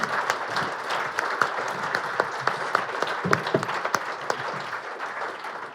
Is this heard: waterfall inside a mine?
no